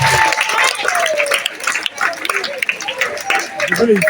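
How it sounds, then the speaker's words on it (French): Applause from an audience at a school awards ceremony, a dense wash of clapping mixed with crowd chatter and voices, steady and close for about four seconds. "Est-ce que nous pouvons applaudir pour Papa Ntika?"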